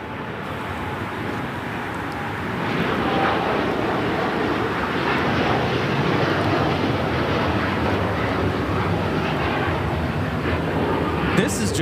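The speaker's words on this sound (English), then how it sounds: "This is Japan Airlines Flight 69 taking off to Osaka on the 787-9 Dreamliner." A Japan Airlines Boeing 787-9 Dreamliner takes off at LAX, a continuous broadband jet roar that swells after a couple of seconds and holds steady, with people talking over it.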